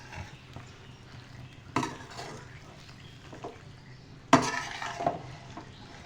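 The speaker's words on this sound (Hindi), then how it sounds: "स्लो फ्लेम पे रख के आपने इसकी मिक्सिंग करनी है" Masala pasta with butter and sauce being stirred in a pan on a slow flame: faint soft scraping and sizzle with two sharper clinks of a utensil against the pan, quiet and close.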